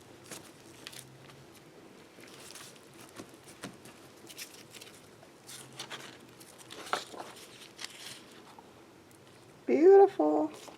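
Sheets of plain computer paper being handled and shuffled, soft intermittent rustles and light crinkling close by, ending in a brief louder burst.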